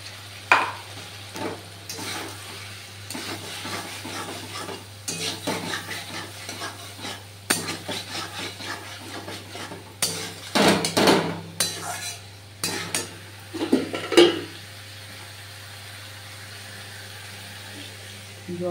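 Pointed gourd is added to a pan and stirred as it fries for a duck egg curry. A spatula scrapes and clinks against the pan over a steady low sizzle, close and moderately loud.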